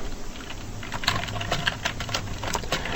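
Arrow keys pressed on a computer keyboard, a handful of separate soft clicks spaced unevenly over a faint steady background hum, close by with no talking.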